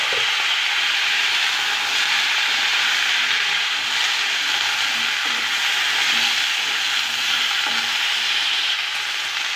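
Cauliflower and other winter vegetables fry in oil in a pan for a lentil dish, giving a steady, even sizzle that hisses continuously at close range with no talking.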